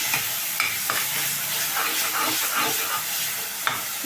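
Chutney ingredients sauté in oil in a pan, giving a steady close sizzle with scraping and stirring strokes across the whole stretch.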